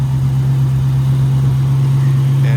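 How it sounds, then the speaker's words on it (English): A 1967 Ford Mustang coupe with a rebuilt engine idles close by, giving a loud, steady low hum with an even, unbroken drone and no revving. "Got a rebuilt engine"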